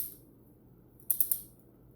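Knob on a bottom bracket torque tool being tightened, faint quiet handling then three quick close clicks in a row, ratchet-like.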